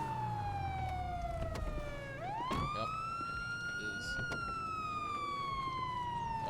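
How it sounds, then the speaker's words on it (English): A police car siren from a role-play video game wails loudly and steadily, pitching down, then sweeping up and slowly falling again; a voice speaks briefly over it. "I got to turn off siren first and foremost."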